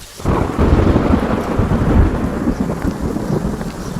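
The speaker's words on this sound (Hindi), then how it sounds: "अरे रुकिए, बारिश हो रही है" Steady heavy rain pours down with a deep rumble of thunder underneath, starting abruptly and continuing loud throughout with no voices.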